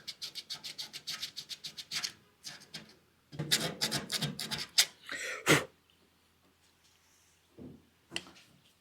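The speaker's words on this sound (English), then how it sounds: "We'll finish it off with just a little piece of sandpaper, just to get that edge rounded off." Sandpaper rubs by hand along the edge of body filler on a Datsun 280Z, quick rhythmic strokes in bursts with short pauses and a few isolated scrapes, close and alone.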